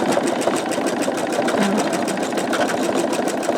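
An embroidery machine stitches out a sugar skull design with a fast, steady, rhythmic needle chatter and motor hum, loud and close, running continuously with no talk.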